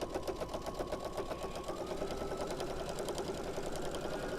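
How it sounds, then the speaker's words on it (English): A sewing machine runs steadily, stitching binding onto a quilt, its rapid needle chatter continuous and close throughout with no pauses. "Okay, so we're sewing."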